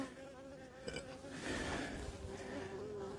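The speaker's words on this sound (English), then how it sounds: "there's a little bee like right in my face." Honeybees during a beehive inspection: a close, wavering buzz of a bee flying near the face, rising and falling in loudness over a quiet outdoor background.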